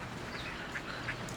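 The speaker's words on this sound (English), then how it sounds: "Somebody noticed the ducks." Ducks quack faintly a couple of times near Niagara Falls, with geese nearby, short nasal calls rising over a steady outdoor hiss.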